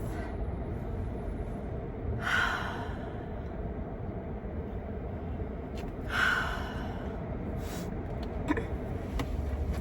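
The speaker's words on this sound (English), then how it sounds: "literally clear my nose" Someone clearing their nose with two distinct sniffs or snorts a few seconds apart, close and fairly soft, over a quiet steady hum like a car interior.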